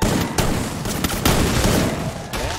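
Rapid bursts of gunfire crackle continuously over a loud, dense background, like a busy firefight in a game.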